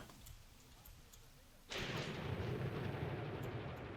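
Gunfire and artillery from a Graviteam Tactics battle open up suddenly as a heavy, sustained roar, loud and continuous after a quieter lull.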